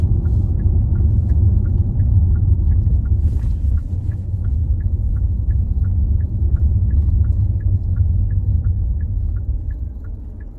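A car drives steadily on a mock driving test around Mulhuddart, its engine and road rumble filling the cabin loudly and evenly, while a soft, regular ticking like an indicator repeats throughout.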